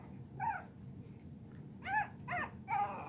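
Shih Tzu puppies and dogs in a family home give several short, high yips and whiny barks, close by, separated by quiet gaps over faint background hum.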